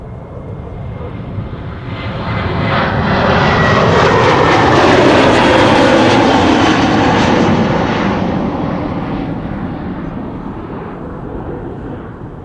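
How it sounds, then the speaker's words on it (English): A KLM Boeing 737-700 jet airliner, 15 years old, passes at Schiphol Airport with a broad engine roar that swells over about four seconds, peaks midway and slowly fades while staying loud. "KLM flight 1043 going to Birmingham, 737-700."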